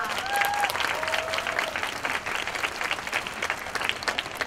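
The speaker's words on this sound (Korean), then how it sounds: "다시 한번 박수 부탁드립니다" Audience applause at an outdoor concert, a dense steady wash of many hands clapping at moderate distance, with a few faint whistles rising above it and fading slightly toward the end.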